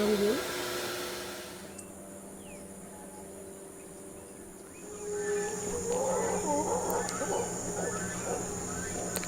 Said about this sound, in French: Tous les soirs et tous les matins, on entend les singes hurleurs crier.